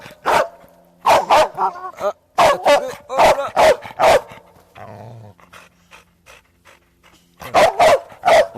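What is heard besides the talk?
Belgian Malinois shepherd dog barking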